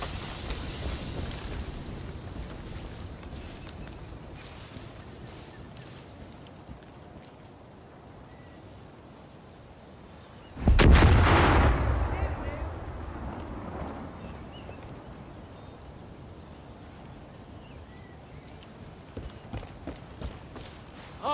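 Vehicle exploding in the video game Far Cry New Dawn, a sudden loud boom midway through that rumbles and fades over several seconds, preceded by footsteps and background game noise.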